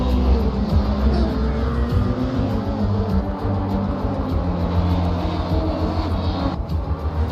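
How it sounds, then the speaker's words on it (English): Radical race cars roar through qualifying at the Grand Prix of Trinidad in the Caribbean Motor Racing Championship, a loud, continuous engine drone that swells and fades as cars pass. "These cars are very loud"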